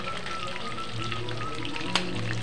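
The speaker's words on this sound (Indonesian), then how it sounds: "Kita masak, kita goreng sampai setengah matang seperti yang aku bilang, sampai berubah warnanya ya" Banana pieces for pisang goreng fry in hot oil, giving a steady, dense sizzle throughout with one brief sharp crackle near the end, close and fairly loud.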